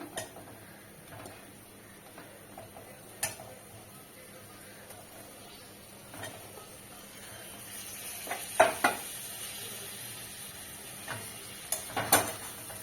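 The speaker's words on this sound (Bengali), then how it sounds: "দু 3 মিনিট একটু পটলটা মশলার সাথে মিশিয়ে নেড়ে চেড়ে নেব।" Fried pointed gourd being stirred with spices and a little sugar in a pan: a faint, low sizzle under scattered utensil clicks and scrapes that grow busier toward the end.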